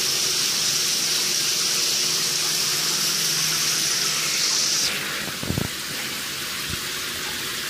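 Shower water runs steadily with a snake, a boa, inside, a broad hiss that cuts off partway through, leaving quieter room noise and a couple of soft thumps.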